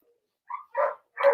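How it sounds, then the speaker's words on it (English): Dogs bark indoors, three short yapping barks in quick succession after silence, fairly close and clear, with no talk over them. "there goes the dogs"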